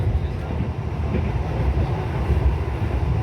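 A KLB Direct Train New Gen executive car runs on the Jakarta to Semarang line, heard from inside as a steady, heavy low rumble and rattle of the running carriage.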